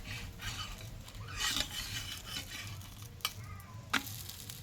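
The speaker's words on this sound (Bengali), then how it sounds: "এখানে কিন্তু আমার এক পিঠ ভাজা হয়ে গেছে আবারও আমি উল্টে নেবো এটা" Lacy batter tiffin frying in a pan after being flipped, a hissing sizzle with scraping stirs and a couple of sharp clicks from a utensil, close and moderately quiet.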